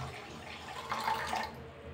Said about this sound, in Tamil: 3/4 கப்பு தண்ணி சேர்க்குறேன்.